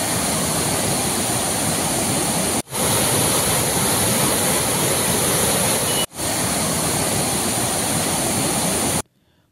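Flooded rivers swollen by heavy monsoon rain surge past in a loud, constant roar of rushing water, broken only by two brief cuts.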